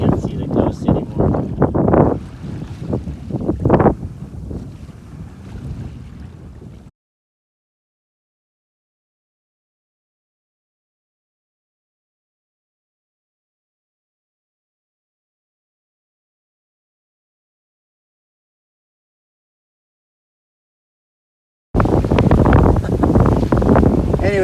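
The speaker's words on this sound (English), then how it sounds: "we got good wind now" Wind rushes over a singlehanded sailboat heading for Victoria, B.C. in early December as loud, rough gusts buffet the microphone. A long silent gap splits the sound, and what may be a voice mixes in.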